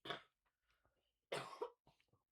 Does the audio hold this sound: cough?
yes